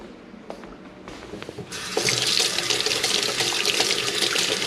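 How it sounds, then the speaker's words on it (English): A sink tap turns on partway through and water runs steadily as hands are washed beneath it, a loud, continuous splashing rush after a few quiet knocks and clicks, with no voices. "I know it gets loud when I wash my hands here."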